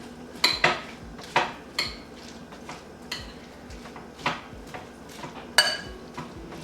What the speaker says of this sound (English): And just start stirring everything well in.